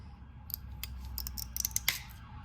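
A Bluebell wheeled mosaic glass cutter bites through glass on its widest setting, giving a quick series of sharp close crunching snaps and clicks, with the loudest crack near the end and no voices.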